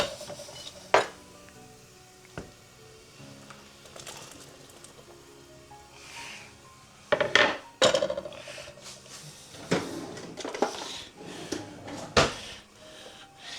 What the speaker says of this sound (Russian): Отправляем нашу картошку